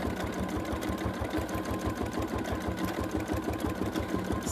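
A sewing machine stitches over fabric pieces on a collage quilt, giving a rapid, even mechanical chatter up close that runs without a break.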